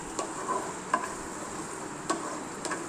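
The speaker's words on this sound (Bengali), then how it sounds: "আস্তে আস্তে এটাকে নাড়বো। মিনিট 5 নাড়তে থাকবো" Chow mein is stirred in a pan over a faint, steady sizzle, with a few quiet clinks and scrapes of the utensil at irregular moments.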